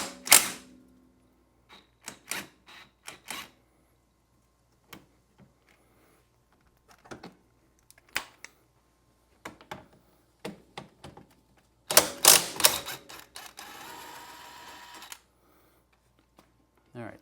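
A wrench works loose the brake caliper bolts, set with Loctite, on a Can-Am Outlander ATV, giving sharp metallic clicks and ratcheting bursts spread out and close by, with one longer busy rattle partway through.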